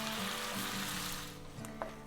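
Apple slices frying in a pan for fried apples give off a steady, close sizzle with faint crackles and a soft knock near the end.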